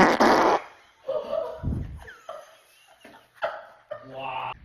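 A woman lets out a loud, close fart at the start, followed by shorter bursts, with voices talking and laughing through the rest.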